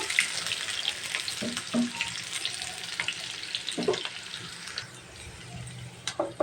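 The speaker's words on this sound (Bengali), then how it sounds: "আমি 1 কাপের মতো পেঁয়াজের কুচি দিয়েছি, এটা কিন্তু আমি হালকা একটু ভেজে নিচ্ছি।" Chopped onion, about a cup, frying lightly in a pan for a chicken curry with papaya and potato, a steady hissing sizzle with occasional knocks and stirring scrapes, close and moderately loud, no speech.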